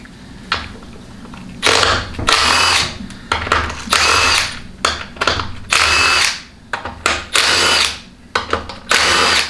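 Air or power tool spinning out valve-body-to-case bolts on a TH400 automatic transmission, a series of loud, close, whirring bursts of uneven length separated by short pauses.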